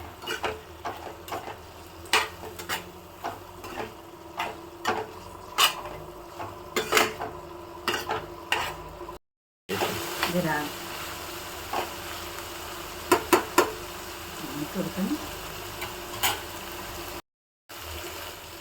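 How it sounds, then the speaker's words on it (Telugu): A spoon scrapes and clinks against a pan as salted mutton liver fry is stirred, with irregular metallic taps over a faint sizzle and two brief pauses. "ఉప్పు వేస్తున్నా మంచిగా కలపాలి"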